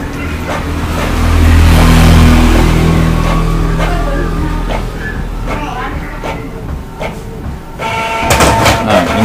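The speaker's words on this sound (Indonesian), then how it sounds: "Nah, ini sudah mulai mengeprint ya." A printer prints a page sent from a laptop, a steady mechanical whir and rumble with rising and falling motor tones and clicks, fairly loud and close, running continuously without speech.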